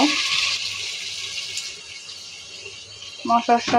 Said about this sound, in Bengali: এখানে আমি অল্প করে একটু পানি দিয়ে দেব